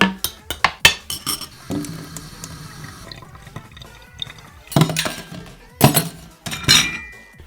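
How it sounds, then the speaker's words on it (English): Dirty dishes and a steel pot in a kitchen are struck and handled, giving a series of sharp metallic and ceramic clinks and clatters with quieter gaps between them. "My sister just put some dirty dishes over here, so I guess I'll sample those as well."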